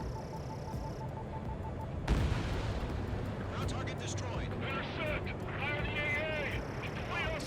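Bombs going off in Ace Combat 7: after a quiet stretch with a steady tone, a sudden loud blast at about two seconds gives way to continuous rumbling and crackling, with whistling and chirping sounds above it.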